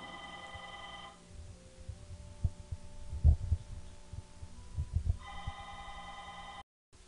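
A telephone rings with a repeated electronic trill, clear at the start and again near the end, while low thumps and knocks fill the gap between the rings.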